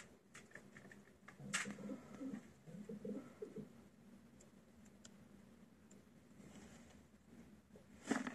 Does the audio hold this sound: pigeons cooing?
yes